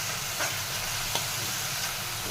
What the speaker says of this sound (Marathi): पाणीसुद्धा तुम्ही बघू शकता छान असं उकळलेलं आहे